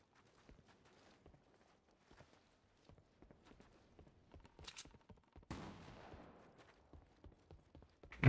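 Faint, scattered gunshots and small clicking impacts in the video game Fortnite come irregularly from a distance, growing slightly denser and louder toward the end.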